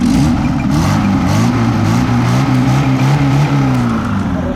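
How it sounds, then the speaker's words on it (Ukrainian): A VAZ 2105 car engine runs loud and close, its pitch rising and wavering as it revs repeatedly over a steady rumbling idle. "Так, работа двигуна. Погазуй."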